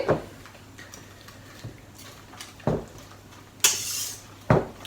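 A double-ended spatula scrapes and mixes a batter with grated cheese in a bowl, giving a few separate scraping strokes and soft knocks spaced about a second apart, close and quiet, with no talk.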